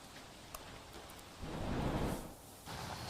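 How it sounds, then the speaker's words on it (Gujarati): Heavy, steady downpour pounding on surfaces in the city of Surat, a dense wash of rain noise that swells louder in the middle, with no voices. "સુરત શહેરમાં વહેલી સવારથી ધોધમાર વરસાદ વરસી રહ્યો છે"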